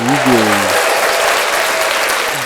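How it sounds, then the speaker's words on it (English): Studio audience applauding to welcome a guest onto a live show, a dense, steady wash of claps filling the whole stretch, with a brief voice at the start. "I can hear the claps"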